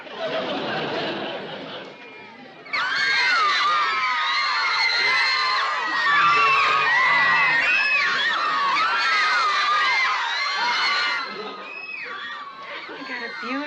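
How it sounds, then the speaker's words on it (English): A large crowd screams, cheers and whoops loudly and continuously at a sitcom event, a dense wall of high excited voices that swells after a brief dip and fades slightly toward the end. "How can you tell with all that screaming?"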